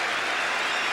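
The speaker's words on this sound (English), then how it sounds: "he's applauding the West Ham supporters, which is a terrific gesture" Dense, steady applause from a large stadium crowd after the 1980 FA Cup Final between West Ham United and Arsenal, a continuous loud roar of clapping with no break.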